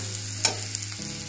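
Chopped onion and chilli sizzle in butter in a pan for paneer bhurji, a steady close frying hiss with a brief scrape of stirring.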